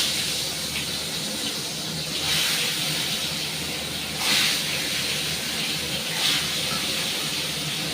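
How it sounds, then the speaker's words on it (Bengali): Fish frying in hot oil in a frying pan, a steady broadband sizzle throughout with a few brief louder spits and bursts, no talk. "এদিকে তেলটা আমার গরম হয়ে গেছে, মাছটা ছেড়ে দেবো।"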